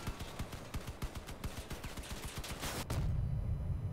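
Twin Cyclone guns mounted on a Crossout combat vehicle fire a fast, evenly spaced stream of heavy thumping shots. Near the end the rhythm gives way to a denser, rumbling blast.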